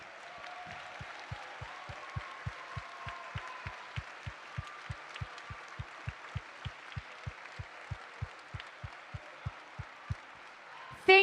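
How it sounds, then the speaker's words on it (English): An audience at a closing ceremony applauds its volunteers with steady, moderate clapping from a crowd, while a regular low thumping beat pulses underneath throughout. "let's give our volunteers a huge round of applause"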